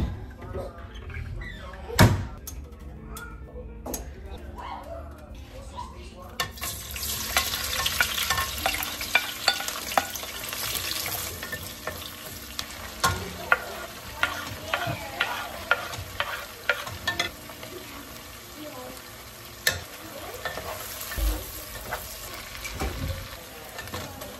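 Food fries and is stirred in a pan at home: a steady loud sizzle sets in after a few seconds, with repeated clinks and scrapes of the utensil and occasional knocks, while a person talks intermittently.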